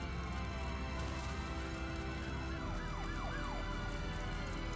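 Wailing siren tones within a dramatic orchestral pop track, rising and falling in repeated swoops over dense strings and a steady musical bed.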